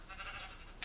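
Short, high bleat of a baby sheep in the Minecraft video game, a single faint call heard alone without talk.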